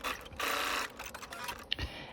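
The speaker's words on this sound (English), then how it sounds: "Then we're just going to sew the elastic in place at the sewing machine." Sewing machine stitching elastic into a satin silk scrunchie with a quarter-inch seam, a steady whirring run that stops, then short bursts and a sharp click, close and moderately loud with no talking.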